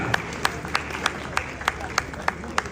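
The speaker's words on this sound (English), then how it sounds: "A round of applause for Wode Maya." Audience applause for Wode Maya, the Ghanaian storyteller, comes as sparse, evenly spaced claps over a steady crowd murmur, moderately near and fairly soft.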